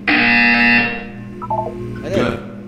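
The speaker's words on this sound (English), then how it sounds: "When you hear the buzzer, look down at the floor." A test chamber buzzer in the video game Portal 2 sounds as a loud, steady tonal drone at the start and then cuts off, followed by quieter electronic blips and a brief rising chirp.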